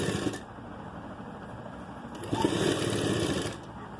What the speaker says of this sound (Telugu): ఈ విధంగా ఎడ్జ్లు మొత్తం కలిపి కుట్టు